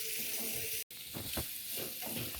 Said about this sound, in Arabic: غادي نخليو دابا البصله ديالنا تشحر